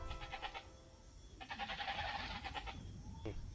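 Sheep bleat a few times in Age of Empires II: Definitive Edition against a steady electronic background with faint chatter, moderately loud and close.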